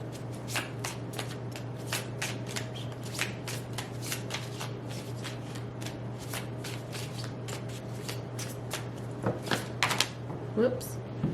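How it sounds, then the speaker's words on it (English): A deck of oracle cards shuffled by hand, giving rapid, crisp riffling and snapping bursts that repeat through the whole stretch. They are close and clear over a faint steady hum. "Let's pull 5 cards from here."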